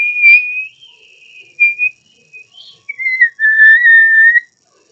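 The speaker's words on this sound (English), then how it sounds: "Stick it back in the trunk, Harry advised as the sneakoscope whistled piercingly" A magical sneakoscope from a Harry Potter story gives a piercing, high whistle that wavers and bends in pitch, sounding close and loud in several bursts of varying length with short gaps between them.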